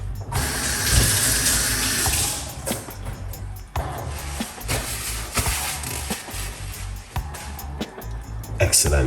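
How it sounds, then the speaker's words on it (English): A homemade energy drink is poured through a strainer, a steady liquid splash and trickle running throughout at close range, with a voice talking over it. "we're gonna run it through the strainer"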